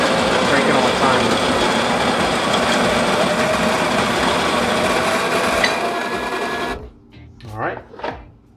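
A Baratza burr coffee grinder (Virtuoso or Encore) grinds steadily and loudly for about seven seconds, a dense whirring motor drone, then cuts off, leaving a few brief clatters and knocks.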